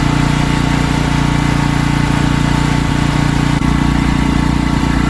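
A Wacker portable generator engine runs steadily and loudly at a constant idle-like drone close by, its fuel shut off at the carburetor as it burns through what remains, with no talking over it.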